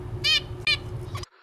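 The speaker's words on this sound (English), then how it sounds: "Probably not the bird song you're used to hearing, but in zebrafinches, that's what it sounds like." Zebra finch song: two short, buzzy harmonic notes about half a second apart, then a quicker fainter note, close and clear before cutting off abruptly, with no talking.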